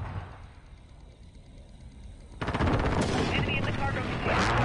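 A precision airstrike hits in a shooter video game, with a sudden loud barrage of rapid blasts and gunfire-like bursts that continues densely and close after a quieter stretch of game ambience.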